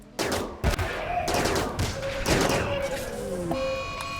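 Gunfire in the colony-building video game RimWorld, a steady run of overlapping shots and thuds with rising tones and beeps, loud and continuous over about four seconds with no talk.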